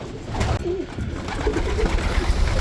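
Soft, low pigeon cooing, a couple of throaty warbling calls nearby over a background of rustling and shuffling.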